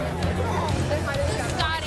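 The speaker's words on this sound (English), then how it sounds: "Crowds gather for the yearly madness of guys and their machines." A crowd gathers at a spring break off-road event in Moab, Utah, a steady hubbub of overlapping voices and chatter close by.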